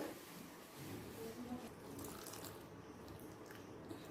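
Tamarind water poured into a simmering chickpea and pea curry, a steady liquid splash and trickle that runs for a few seconds, close and fairly quiet, with no voices.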